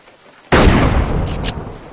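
A single sharp, loud gunshot from a futuristic modded rifle in the game Unturned cracks out abruptly and then rings off with a short fading tail.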